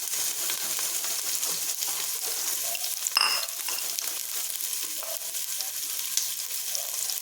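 Garlic and onion sizzle steadily in hot oil in a pan while a Filipino chicken soup with bitter melon leaves is being prepared. The close, constant frying hiss has a few brief clinks and stirring sounds and no voices.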